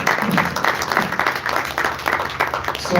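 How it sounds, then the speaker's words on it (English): A small group at a press conference claps in a loose, scattered rhythm, moderately close, with a low murmur of voices underneath. "Let's clap"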